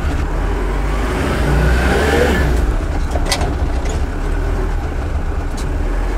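A Toyota Mega Cruiser rolls slowly at about 25 km/h on freshly changed engine oil, its low steady engine drone and road rumble loud and close inside the cabin, with a faint rising whine partway through and no talking.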